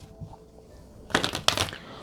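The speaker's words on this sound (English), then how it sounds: "it's really difficult to shuffle this deck" Two quick bursts of tarot cards riffling together, close and crisp, following a near-silent pause.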